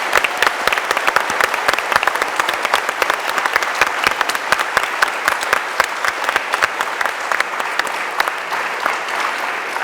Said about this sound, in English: I would love the first round of applause to be for our wonderful orchestra that have played some amazing music.